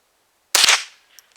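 A single sharp gunshot from a small backpackable survival rifle cracks loud and close, then decays quickly, followed by a couple of faint clicks of the action.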